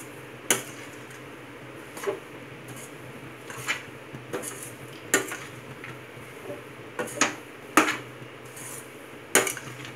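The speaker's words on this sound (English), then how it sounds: "Now let's stir it a bit faster." Poha upma being stirred in a cooking pan, with a spoon scraping and tapping against the metal in irregular clinks spread across the clip, fairly close and moderately loud, no voices.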